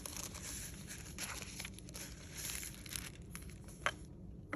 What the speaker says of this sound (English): And cut this real quick.